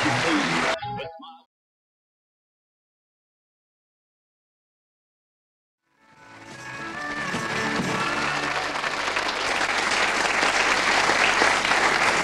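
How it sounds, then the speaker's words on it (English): Audience applause at a country and western tribute concert swells up after a stretch of silence, then holds as a loud, sustained wash of many hands clapping. "That applause doesn't last."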